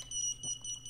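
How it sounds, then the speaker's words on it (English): Buzzer on an Eachine Novice II quadcopter beeping continuously in a steady repeating pattern of short high-pitched tones, fairly faint and alone. "it'll just keep the buzzer always running"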